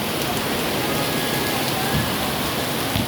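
Heavy rain in rural Iloilo, Philippines, pours down steadily in a dense, continuous hiss, close and loud, with no voices.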